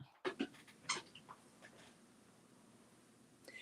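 A nearby dog pants and whimpers in a few quick bursts of breathy huffs, followed by quieter breathing and a faint rustle near the end, with no talking.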